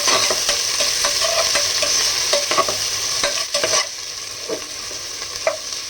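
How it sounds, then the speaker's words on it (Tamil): Chopped large onions sautéed in a pan for chicken biryani crackle loudly and close, with repeated spatula scrapes and knocks giving an uneven stirring rhythm. "பெரிய வெங்காயம் போட்டுக்கலாம். நல்லா வதக்கிக்கலாம்."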